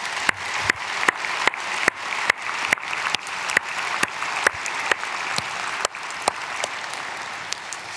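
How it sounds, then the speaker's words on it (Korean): Church congregation applauding in blessing during a Saturday dawn service, sharp individual claps standing out at irregular intervals over a softer, sustained wash of clapping, moderately loud without voices. "우리 박수로 축복하겠습니다."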